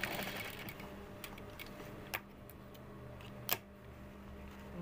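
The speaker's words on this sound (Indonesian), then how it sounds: "Ya, kita jahit." A sewing machine stitching a skirt waistband, a faint, steady mechanical whir with a few sharp ticks and clicks, quiet and close with no talk.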